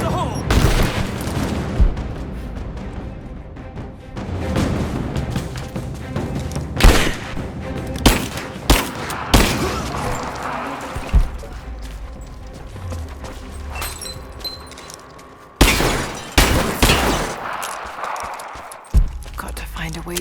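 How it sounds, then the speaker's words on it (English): Bursts of gunfire in the video game Rise of the Tomb Raider, with rapid rifle volleys, sharp single shots and heavy booms scattered across a noisy battle, shouted voices mixed in among the shooting. "Keep firing! I'm under fire!"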